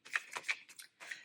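Tarot cards being shuffled by hand, a quick series of close, crisp riffling bursts separated by short pauses.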